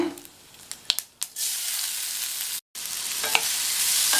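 Carrots fry in oil with mustard seeds and curry leaves, opening with sharp clatters of stirring, then a bright steady sizzle that cuts out briefly and resumes, close and fairly loud.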